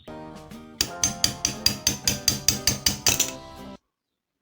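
A hammer taps out the fan shaft of a cordless OSUKA branch pruning shear in a steady run of about a dozen sharp, ringing metallic strikes, close up, before stopping into silence.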